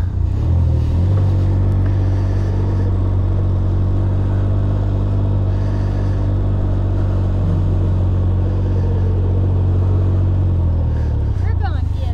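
A 2021 Can-Am Ryker Rally three-wheeler out on a sunny ride, its engine a loud, steady rumble with wind noise throughout, easing off near the end while a rider talks over it.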